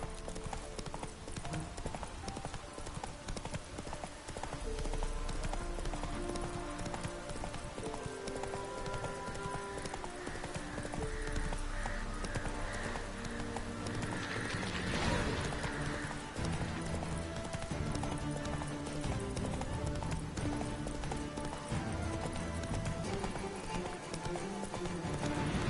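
A horse gallops in The Witcher 3 video game, its steady rapid hoofbeats running close and continuous under game music.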